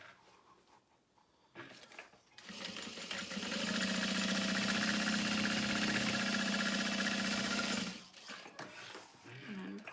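A sewing machine runs a steady back stitch through vinyl for several seconds, a continuous mechanical whir that starts and stops abruptly, with quieter handling noise before and after.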